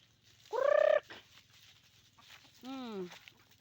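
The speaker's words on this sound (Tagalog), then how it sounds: "Sinusundo na ako ng mga manok guys kasi humihingi na rin sila ng pagkain." Two loud clucking calls from chickens nearby asking for food, separated by a short pause, with faint background noise.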